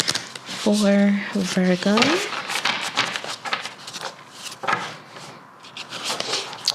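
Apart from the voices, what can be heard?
shuffling tarot cards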